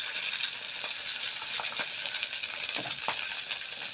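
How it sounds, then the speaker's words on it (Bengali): Fish frying in raw oil, a dense steady sizzle with scattered sharp crackles and pops, close and fairly loud throughout. "কাঁচা তেলটা দেওয়ার মানে হলো এই যে মাছটা ফটফট করে ফাটে, সেটা একটু কম ফাটবে কিন্তু কম।"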